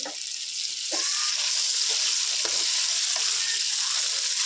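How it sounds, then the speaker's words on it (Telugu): Mutton pieces for gongura pickle fry in a pan with a loud, steady broadband sizzle, broken by several sharp stirring scrapes and clinks throughout. "దీన్ని మంచిగా ఫ్రై చేసుకున్నాం ఫ్రెండ్స్"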